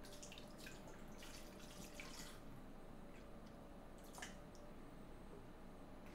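Water runs steadily into a container for an 8-ounce measure, a continuous splashing pour that stays even and fairly close throughout, with no talking over it.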